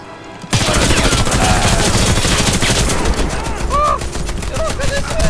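Shotgun fire and other weapons in the shooter game Warface build into a loud, dense barrage of rapid overlapping shots that runs almost nonstop, with a few brief electronic tones in the mix.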